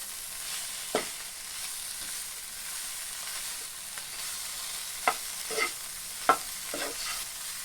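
Chilli masala curry stirred in a pan, a quiet continuous sizzle broken by several soft scraping strokes of a spoon against the pan, close and faint.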